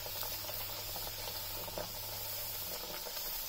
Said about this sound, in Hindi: इसको ध्यान से हम गरम तेल में छोड़ देंगे। तेल अच्छा गरम होना चाहिए।